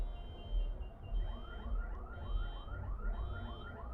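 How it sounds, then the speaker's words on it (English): A car alarm wails from outside, its repeating rising chirps cycling steadily at moderate volume behind a low background hum, with no voices. "The car alarm is going off"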